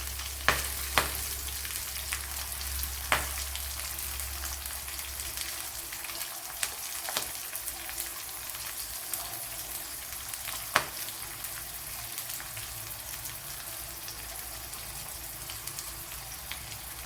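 Ginger, garlic, dried red chilies and curry leaves fry in oil in a pan, giving a steady soft sizzle with a few sharp pops and crackles near the start and scattered through.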